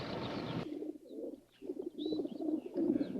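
Pigeons coo close by in soft, low, throaty bursts in an uneven rhythm, with a few faint higher chirps between them and no voices.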